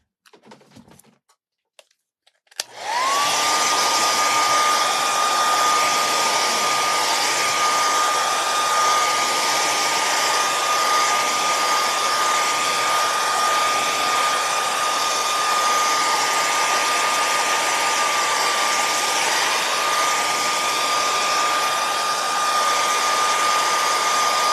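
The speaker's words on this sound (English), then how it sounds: "I'm going to hit it with a blow dryer." A blow dryer runs steadily for over twenty seconds, drying paint on a St. Patrick's door hanger craft. It starts after a brief quiet moment and keeps a constant whining drone, close and loud.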